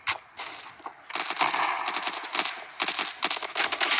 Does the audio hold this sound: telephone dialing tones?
no